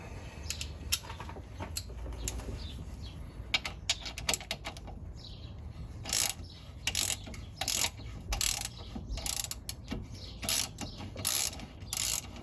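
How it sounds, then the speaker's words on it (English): A ratchet wrench loosens a tight transmission bolt on a classic Fiat 500, giving bursts of close, crisp pawl clicks in quick repeated strokes with brief pauses between them. "Should be able to use a ratchet now on it."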